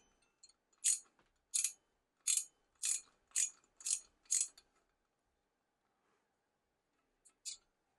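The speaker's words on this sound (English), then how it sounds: "Now I do need some friction here." A ratcheting screwdriver from a 40-in-1 set clicks as it loosens a bolt, giving seven sharp, evenly spaced ratchet bursts up close, then a pause and one last short click.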